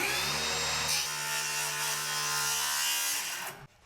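A power saw cuts through a wooden wall stud while a bathroom is being rebuilt, giving a steady buzzing whine at close range that stops abruptly at the end.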